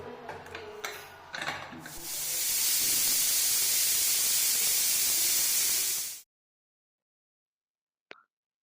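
A pressure cooker of mutton biryani vents a loud, steady rushing hiss of steam for about four seconds, close by, after some brief clattering, then cuts off into silence before a short final click.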